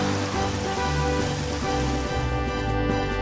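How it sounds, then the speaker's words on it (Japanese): Heavy rain falls during a battle in the video game Pokémon Stadium Gold and Silver, a loud, continuous downpour hiss mixed with the game's music. "あーっと大雨になりました。"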